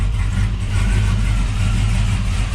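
An LS-swapped Chevy C10 squarebody pickup truck idles steadily, a deep low engine rumble running continuously and loudly up close with no talking.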